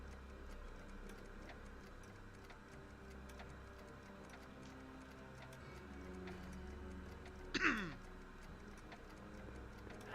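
A clock ticks faintly and evenly in the Back to the Future video game, Episode 3, Citizen Brown, under a low ambient hum, with a brief brighter chirp near the end.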